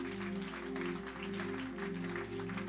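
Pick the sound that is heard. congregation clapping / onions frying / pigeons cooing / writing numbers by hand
congregation clapping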